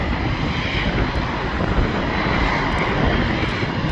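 Firefighting planes on an airfield produce a loud, continuous engine roar, a steady broadband drone with no talk.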